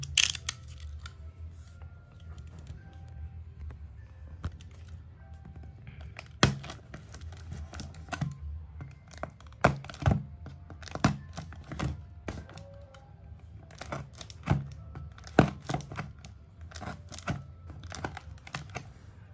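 A Xiaomi P370 Wi-Fi mesh extender package is opened up close, with scattered crinkling, tearing and clicking handling noises in irregular bursts over a faint steady hum.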